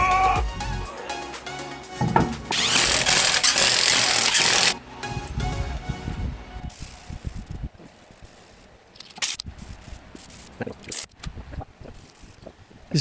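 A power sander works body filler on a Mercedes-Benz car, a loud, steady grinding burst lasting about two seconds that then drops to quieter, intermittent scraping and handling noises.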